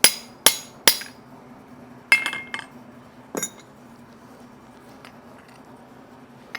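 A hammer strikes a forged steel tip laid on an aluminum block over an anvil, cutting through it: three sharp metallic clinks in quick succession, a pause, then a louder cluster of ringing blows and one more, with faint later taps over a low hum.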